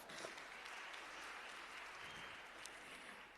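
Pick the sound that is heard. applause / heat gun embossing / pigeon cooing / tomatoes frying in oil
applause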